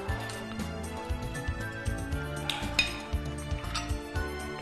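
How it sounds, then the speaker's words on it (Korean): Clams being scraped and clinked against a bowl while clam kalguksu is plated, with repeated close scraping and clattering of shells and utensils on the dish in an irregular rhythm. "이 바지락 긁히는 소리 들리나요?"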